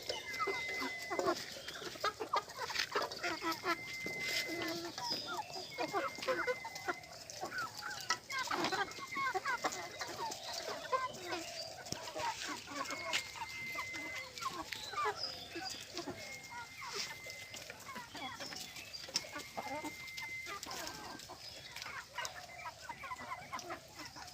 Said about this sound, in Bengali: দেখুন পাত্রে মুরগির খাবার দেওয়া হচ্ছে মুরগিগুলো খাচ্ছে